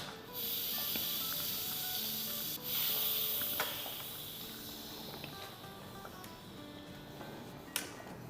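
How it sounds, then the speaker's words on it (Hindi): Steam hisses from a pressure cooker being vented after cooking a paya (trotters) dish, a steady fairly quiet hiss with a few sharp clicks and knocks, and no talk. "चूल्हे को बंद कर देंगे और इसको वेंट कर लेंगे कुकर को"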